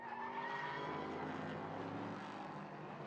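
GT race cars at speed on a circuit during a 2016 French GT championship battle, a loud, continuous engine roar with shifting pitch as cars pass close by, no talk.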